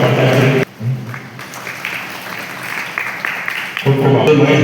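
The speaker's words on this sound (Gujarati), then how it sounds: "આપણે તાળીઓના ગગડાથી વધાવીશું" Audience clapping at an outdoor tree-planting festival held at a town crematorium ground, a moderate burst of applause sandwiched between stretches of loud amplified speech over a PA system.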